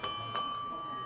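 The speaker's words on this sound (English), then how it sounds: "I brought my bell today." A small hand bell struck twice in a quiet room, two bright metallic strikes about a third of a second apart, each leaving a long clear ringing tone that fades slowly.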